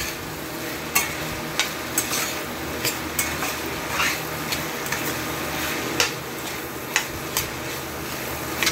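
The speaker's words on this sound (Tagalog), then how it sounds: "luto na dati ito, kaya bahagya lang natin itong ipiprito" Chicken sisig with plenty of onions is being stir-fried in a pan, with a steady sizzle under sharp, regular clinks of a utensil against the pan about once a second.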